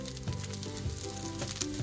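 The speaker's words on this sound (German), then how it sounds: "Die werden wir jetzt ein bisschen kross anbraten" The soft bread filling of pretzel rolls frying in hot butter in a separate pan, a quiet, steady sizzle and crackle with no talk.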